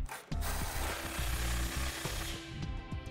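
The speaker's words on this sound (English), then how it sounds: "now we'll go ahead and tighten down the hardware. We'll use a 19 millimeter or 3/4 inch socket for this." A ratchet with a 19 mm socket cranks down the bolts of a Curt Class III trailer hitch on a 2011 Ford van, giving fast, close, repeated clicking strokes for about three seconds.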